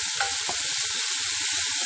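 Sliced onions sizzle steadily in a hot pan while a utensil stirs them, a bright crackling hiss with a couple of soft scrapes, close and alone over a brief stretch.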